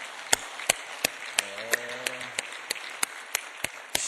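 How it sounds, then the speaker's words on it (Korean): A church congregation claps in a steady, even rhythm, a dozen or so distinct beats at a brisk pace, with a faint voice murmuring briefly beneath the clapping. "뜨거운 격려 박수 한번 더 하겠습니다"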